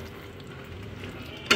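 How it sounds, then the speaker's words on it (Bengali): Black pepper malai chicken, yogurt-marinated with a little sugar added, sizzles softly in a pan while being stirred, ending with a short louder clatter of the utensil. "আবারও ভালো করে একটু নেড়ে নিচ্ছি।"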